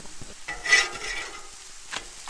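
Thin pizza crusts flipped on a Blackstone flat-top griddle: a quiet spatula scrape and clatter followed by a soft sizzle, then a second brief scrape, close and fairly faint.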